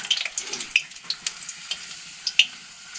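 Local papad fries in hot oil in a Nepali village kitchen, giving a close, crackling sizzle with scattered sharp pops and no voices.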